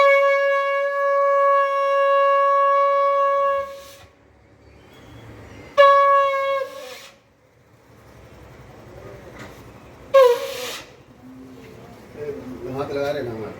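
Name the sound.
conch shell blown during a Hindu house-warming ritual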